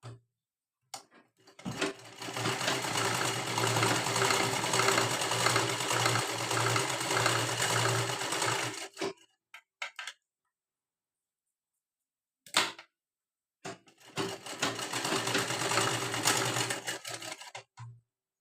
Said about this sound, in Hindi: यहाँ पे सीधी सिलाई लगा लेनी है